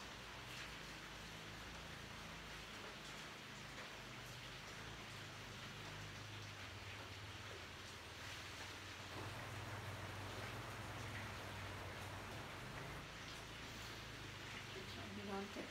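Steady, dense rain pours continuously with no breaks, a constant hiss with a low rumble underneath.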